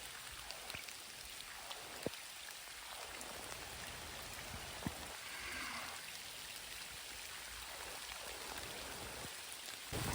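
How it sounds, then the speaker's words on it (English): Heavy rain pours during a warm tropical-style storm, a dense continuous hiss of drops striking surfaces with scattered sharper splashes, steady and enveloping with no voices. "It's raining even harder."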